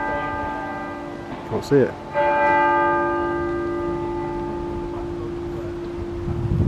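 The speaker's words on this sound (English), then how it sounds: "turn on the camera and record the bells chiming" Church bells chime in Leicester, loud sustained ringing tones that hang and decay across the clip, with a brief spoken remark and some handling noise partway through.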